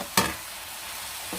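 Sliced shiitake mushrooms and peppers stir-fry in a pan, a soft steady sizzle opened by one sharp clatter of a utensil and ending with another light scrape.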